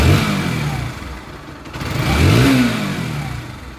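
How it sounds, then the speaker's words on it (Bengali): Bajaj Pulsar NS 160 motorcycle, recently rebuilt engine, idling just after being started, a close, loud, throaty drone that rises and falls in a couple of revs. "বাইকটি আমরা স্টার্ট করলাম মাত্র, তো বাইকের ইঞ্জিনের সাউন্ড শুনে আশা করি বুঝতে পারছেন একদম এ ক্লাস সাউন্ড।"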